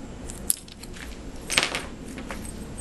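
Small old padlocks and their keys are handled, giving soft metallic jingles and clinks with a couple of sharper taps, close by and fairly quiet.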